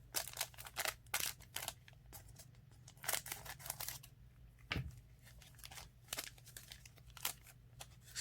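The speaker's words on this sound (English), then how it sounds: "My trusty scissors." Trading card foil packs from a basketball mega box being cut open with scissors, a series of sharp snips and crinkles at close range, with brief pauses between cuts.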